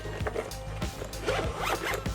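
Close, brisk zipper pull closing a carrying case for a Satisfye ZenGrip 2 grip on a Nintendo Switch 2, several short ratcheting strokes in quick succession with no talk.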